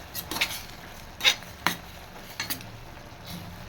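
A spoon scrapes and clinks against the pan as turmeric and salt are stirred into tomato masala for a Kongu-style tomato thokku, giving a few sharp, separate metallic knocks over a quiet background.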